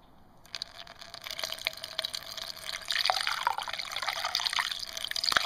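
Water pours into the radiator of a restored 1935 Chevy, a light trickling that builds into a steady splashing, bubbly gurgle with scattered drips, close and moderately loud.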